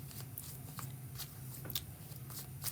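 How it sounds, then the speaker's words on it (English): Tarot cards shuffled by hand during a reading, a soft papery riffle and slide in repeated bursts, close and fairly quiet over a steady low background hum, with no talking. "I'm going to go ahead and start shuffling so we can get a deeper look"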